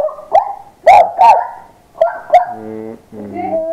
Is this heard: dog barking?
yes